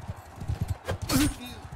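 Hoofbeats clatter from a horse in Mount and Blade Bannerlord, then a short crash and a brief whinny as the horse stumbles, with someone talking over it.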